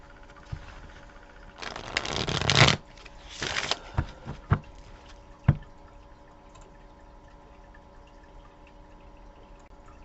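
Oracle cards are shuffled by hand nearby: two quick riffling bursts, then several soft taps and knocks as the deck is squared, followed by quiet.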